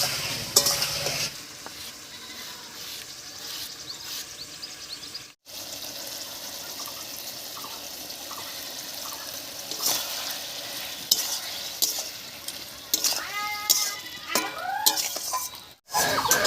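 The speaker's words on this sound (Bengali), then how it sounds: "এবার বেটে রাখা মশলাটা দেবো" Bottle gourd cooks with ground masala paste for a rohu fish curry, a steady close sizzle under repeated stirring scrapes and occasional utensil clinks, briefly cut twice.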